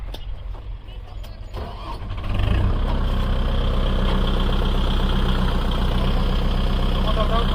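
A Kubota MU4501 four-wheel-drive tractor engine starts working in a farm setting, its steady low rumble jumping louder after a quieter opening and then holding a constant drone close by, with people talking alongside.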